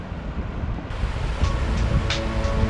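Surf rolls onto Hua Hin beach in Thailand, a continuous low wash of waves with some wind rumble and a few brighter splashes breaking through, fairly close and steady.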